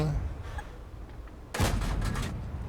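A tank gun fires once from an American T37 light tank in World of Tanks, a sudden loud blast that rings out over steady engine and battlefield rumble.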